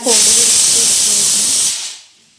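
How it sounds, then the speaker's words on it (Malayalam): A pressure cooker venting in a home kitchen, a loud, close, steady hissing whistle of steam that holds for about a second and a half, then fades quickly away. "കുക്കർ വിസിലടിച്ച് തുടങ്ങി"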